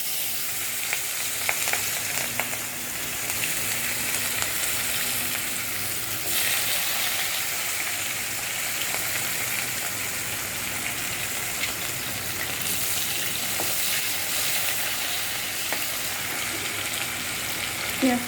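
Onions frying in a kadai, a dense, continuous sizzle with bursts of stirring throughout, fairly loud and steady with no talking.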